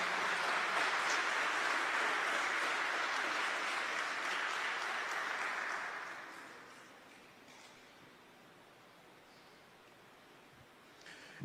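A congregation at a Catholic service applauds Our Lady in a dense, even roar of clapping that holds for about six seconds, then fades away to near quiet.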